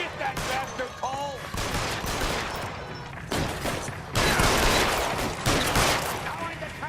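Rapid, dense gunfire fills a shootout with looters in L.A. Noire, loud volleys in several bursts with brief shouted voices mixed in.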